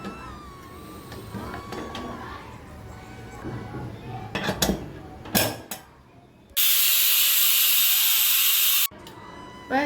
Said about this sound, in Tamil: ஒரு தடவை கிளறி விட்டு குக்கரை மூடி போட்டு விசில் போட்டுருவோம்